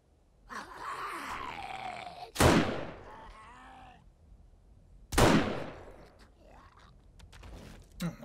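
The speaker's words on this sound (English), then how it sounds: "I didn't know I could shoot through chain link." Two sharp gunshots in the game 7 Days to Die, fired through a chain link fence, each a loud broadband crack with a short decaying tail, spaced about three seconds apart amid groaning and other game noise.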